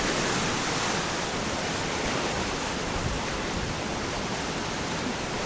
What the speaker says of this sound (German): Hier am rauschenden Bach